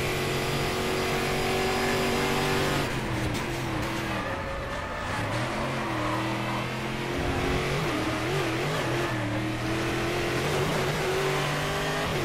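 A Brazilian V8 stock car engine in the racing game Stock Car Extreme at Interlagos roars continuously, downshifting and braking midway and then climbing back through the revs, loud and constant throughout.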